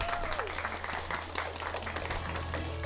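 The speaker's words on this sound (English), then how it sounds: "Round of applause." Applause from the audience at a school quiz bowl match, a fairly faint and steady patter of many hands clapping over a low background hum, lasting a few seconds without talk.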